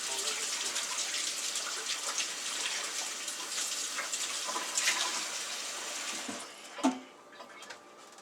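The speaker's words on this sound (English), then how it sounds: "I gotta wash my hands" Tap water runs steadily into a sink while hands are washed during meatball cooking. The gush holds for several seconds, then cuts off with a brief clunk and a few faint drips afterward.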